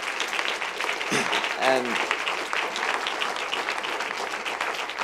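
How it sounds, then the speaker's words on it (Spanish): Church congregation applauding fathers at a Father's Day service, a broad wash of clapping lasting several seconds, with a brief voice cutting in near the start. "We sure would like to give you a round of applause."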